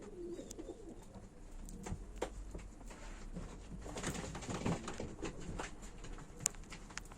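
Pigeons coo quietly at a live pigeon auction of play birds, with low faint calls through scattered taps, wing flutters and shuffling.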